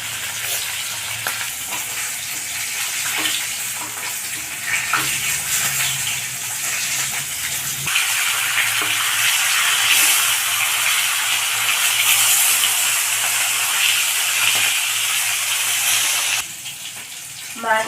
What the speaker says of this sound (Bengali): বাকি মাছটা এইভাবে ভেজে নেবো